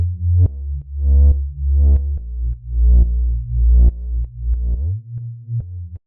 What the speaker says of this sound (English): the first sound we have here is this Reese bass,